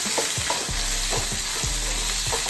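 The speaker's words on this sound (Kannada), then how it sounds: "ಈಗ ಕಾಯಿ ತುರಿ, ಕೊತ್ತಂಬರಿ ಸೊಪ್ಪು ಹಾಕಿ ಒಂದ್ಸಲ ಕೈ ಆಡಿಸಿದ್ರೆ" Fried corn being stirred in a hot pan with grated coconut and coriander for a corn salad, a continuous sizzle broken by repeated scraping strokes of a spoon, close and loud, with no talk.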